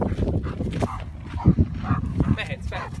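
A dog gives a couple of short barks near the middle, mixed in with ongoing talk from nearby people.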